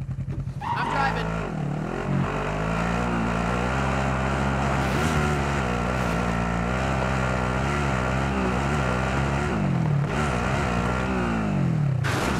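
Engine hum of a vehicle driven in a battle royale shooter game, a steady droning motor with shifting pitch as it revs and eases, loud and continuous throughout.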